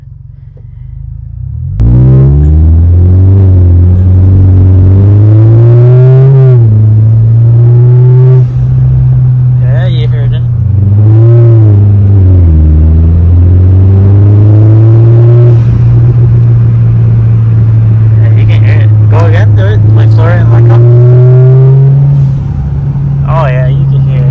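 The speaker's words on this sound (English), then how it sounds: "we're gonna test out this blow valve dual port from Turbo Smart." A 2022 Subaru WRX fitted with a Turbosmart dual-port blow-off valve pulls hard through several gears. The loud engine note climbs again and again, with short hissing bursts between shifts.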